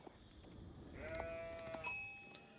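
Sheep in the Age of Empires IV strategy game let out a single wavering bleat over faint game background, quiet and fairly close.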